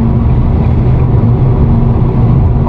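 A 2023 Nissan Leaf electric car accelerates hard, giving a loud, steady low road-and-motor rumble heard from inside the cabin, unbroken for about three seconds.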